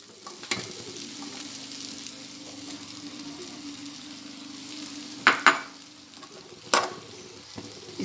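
Grated fresh coconut stirred into hot ghee in a pan for a Konkani cabbage dish, with a continuous gentle sizzle and a few sharp scrapes of the spoon against the pan.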